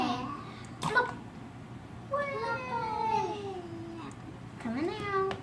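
A child imitates a cat, giving a few drawn-out, rising and falling meows with pauses between them, close and clear, with play-time chatter around it and a low steady background hum.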